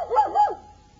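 A person imitates a dog, giving two quick, close, loud bark-like yelps and then falling silent.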